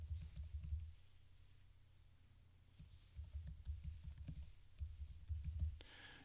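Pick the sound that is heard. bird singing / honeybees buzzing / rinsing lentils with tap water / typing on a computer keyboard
typing on a computer keyboard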